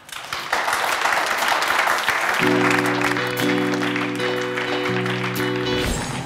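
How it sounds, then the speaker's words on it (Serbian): Studio audience applause on a Serbian late-night talk show, a dense sustained wash of clapping that fills the room, with a band's held chord entering partway through and the cheering fading near the end. "Kakva ludačka atmosfera, teško je prekinuti ovaj aplauz."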